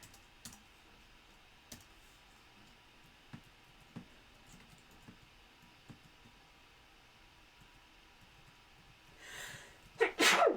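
Sporadic keyboard clicks tapping quietly at a computer while playing King's Quest III, then a loud close sneeze with its sharp intake bursting out at the very end.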